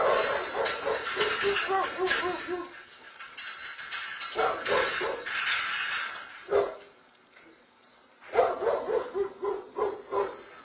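Dog barking to scare off an intruder, bursts of loud close barks in several clusters with short quiet gaps between.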